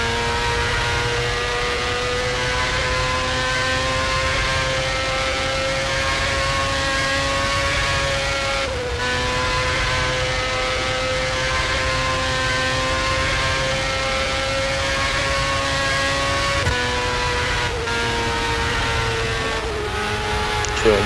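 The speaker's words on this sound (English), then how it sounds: "this is a Honda and it sounds really nice because it revs higher than everything else" A high-revving Honda race car engine at Phoenix holds a steady, piercing tone with brief dips at gear shifts, loud and continuous over a long stretch.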